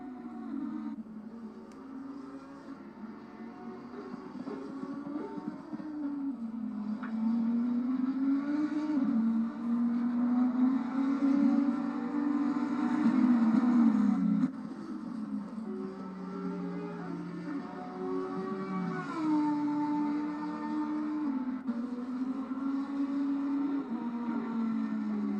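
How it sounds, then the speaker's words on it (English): An Audi race car engine at Misano drones steadily for the whole stretch, its pitch rising and falling through gear changes and throttle shifts. It stays loud and continuous, with no talk over it. "Let's have a listen to that car."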